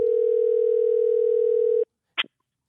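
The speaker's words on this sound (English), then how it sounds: "Phone's ringing." A single steady telephone ringback tone sounds loud and alone for nearly two seconds, then cuts off, followed by a brief click after a short silence.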